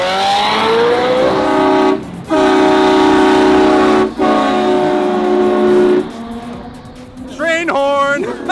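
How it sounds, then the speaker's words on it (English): A train horn fitted to a supercar blares in long, loud chords, cut by brief pauses into three sustained blasts, followed by wavering revs and echoing noise from a tunnel setting. "Train horn! Train horn!"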